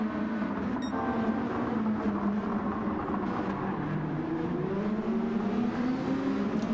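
Super GT race cars run at Autopolis, their engines blending into one continuous, even drone that holds at a steady pitch and level for the whole stretch, with no single pass standing out.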